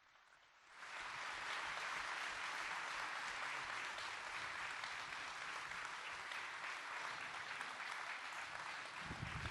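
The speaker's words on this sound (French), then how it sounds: "On peut les applaudir, il y a beaucoup de travail" An audience at a New Year's greetings event in Boissise-le-Roi bursts into applause after near-silence, and the dense clapping holds loud and steady to the end.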